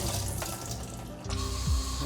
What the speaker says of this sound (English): We'll grab our chickpeas and give them a little drain.